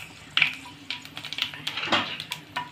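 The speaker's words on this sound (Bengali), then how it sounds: "পাঁচ ফোড়নটা একটু নেড়ে নেব" Panch phoron spices stirred in a hot pan, with sharp metallic scrapes and clinks of a utensil against the pan over a faint sizzle, in irregular taps close by.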